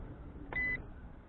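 A JJRC H68G GPS quadcopter drone gives one short, clear electronic beep during compass calibration, faint against a quiet background.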